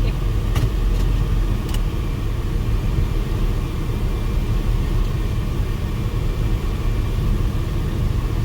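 Steady, loud low rumble of a 1938 Chevy Master Deluxe rolling along the road, with engine drone and road noise filling the cabin and a few faint clicks near the start.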